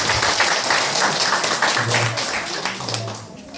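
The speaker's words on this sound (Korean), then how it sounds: "뜨겁게 박수를 환영해 주시면 감사합니다" A church audience claps to welcome a guest during a service, a dense, fairly loud burst of applause that carries on steadily and tapers slightly toward the end.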